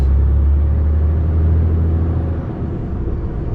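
A MAN truck on the road accelerates as a steady, loud low engine drone with heavy rumble, easing off slightly near the end.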